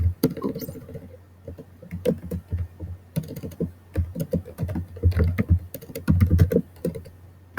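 Computer keyboard keys typed in short irregular bursts, close and moderately loud, with clicks clustered in quick runs and brief pauses between them.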